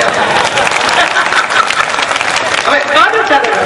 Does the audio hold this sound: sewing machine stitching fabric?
no